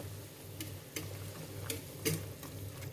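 Goulash being stirred in a pot for a traditional Hungarian dish, with soft scraping strokes and light sizzling recurring every half second or so over a steady low simmer, close and fairly quiet.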